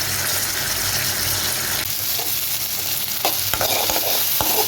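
Onion and tomatoes sauté in a pan for chutney with a loud, continuous sizzle, and a few sharp stirring clinks and scrapes come later, no one speaking.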